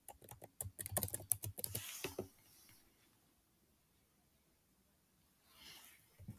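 Fingers tap quickly on a computer keyboard entering a name into an online form, a close burst of crisp keystrokes for about two seconds, then near silence with a faint brief rustle near the end.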